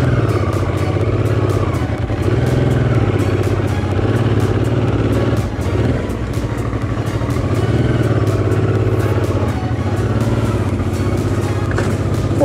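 A heavy Honda Transalp motorcycle churns through deep sand on a Sardinian tour, its engine droning loudly and unevenly throughout with constant clatter and wind rush.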